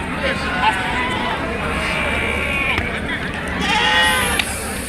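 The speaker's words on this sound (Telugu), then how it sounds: "కుంట గొర్రెల మేకల సంత ప్రతి గురువారం జరుగుతుంది" Sheep bleating at the Kunta sheep and goat market, several wavering bleats from animals nearby and farther off over a constant crowd hubbub, with people talking in the background.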